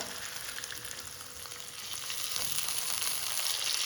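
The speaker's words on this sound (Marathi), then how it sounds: "स्लो आणि मीडियम अशा दोन्ही ह्याच्यावर मॅनेज करत करत फिश फ्राय करायचा" Recheado-masala surmai fish fries in a pan of oil over slow to medium heat, giving a steady, close, crackling sizzle that holds even and grows slightly louder toward the end, with no voices.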